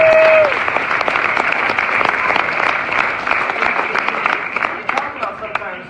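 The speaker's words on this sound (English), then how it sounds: "Round of applause right there." Audience applause at a live talk event in San Diego, a loud sustained wash of clapping from a crowd after a short opening tone, gradually thinning toward the end.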